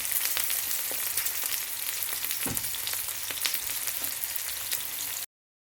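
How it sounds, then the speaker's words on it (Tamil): Small onions mixed with salt sizzle loudly after going into hot oil for an egg stir-fry, a dense, even frying crackle with a soft stirring thump midway, then sudden silence at the end. "இப்போ எண்ணெய் சூடாயிட்டுது நாங்கள் உப்பு போட்டு கலந்து வச்சுட்டுக்கிற இந்த சின்ன வெங்காயத்தை இந்த எண்ணெய்க்கு போடுறேன்"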